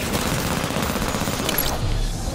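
Dense, continuous gunfire from enemy weapons in the video game Halo 5, a loud rapid burst of shots and booms lasting the whole moment, with no speech over it.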